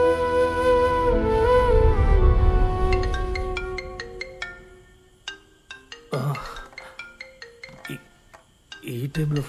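A phone ringtone plays in a movie scene, a melodic electronic tune of repeated bright notes that enters after a low rumbling stretch and continues in short chiming phrases.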